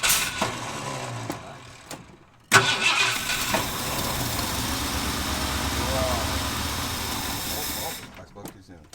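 A 1978 Ford F150 truck that had sat unused for years cranks briefly, pauses, then catches and runs with a loud, rough, steady engine roar for several seconds before cutting out, with voices heard alongside.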